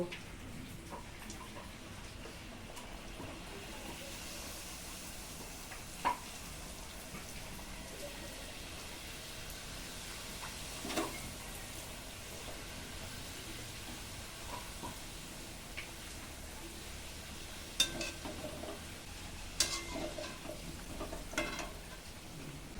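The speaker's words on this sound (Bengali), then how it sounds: "এইভাবে সাদা সাদা লুচি ভেজে নেবো" Luchi fry in hot oil with a soft, constant sizzling crackle, quiet and close, punctuated by a few light clinks from stirring.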